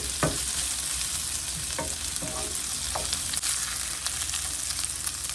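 Salmon fillet fries crisply in an Indian-style fish fry, a steady close sizzle of hot oil in a pan with a few sharp taps and clinks of a utensil, no talking.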